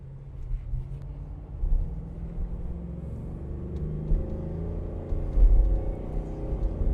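Ford F-350 XLT pickup with a 7.3-litre V8 accelerating, heard from inside the cab as a low steady engine rumble that swells and drops with gear shifts, no talk over it.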